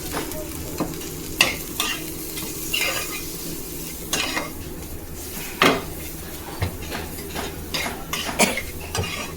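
Mustard, ginger and cumin paste being stirred into a katla fish curry in a pan, with repeated scraping and clinking of a spoon against metal over a soft steady sizzle, close and without talk.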